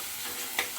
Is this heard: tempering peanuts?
yes